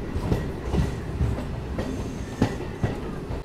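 A MEMU train runs on an elevated track near Chikkaballapur railway station, with a steady rumbling roll and periodic clickety-clack wheel beats over the joints, close and continuous.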